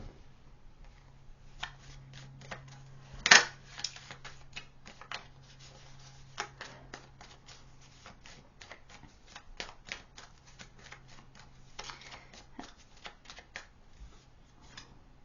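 Tarot cards shuffled by hand, a long run of soft rapid riffling and snapping card flicks with one sharp louder slap early on, close and quiet over a faint steady hum, no talk.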